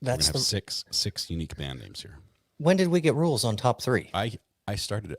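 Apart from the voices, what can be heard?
No everyday noise stands out behind the speech.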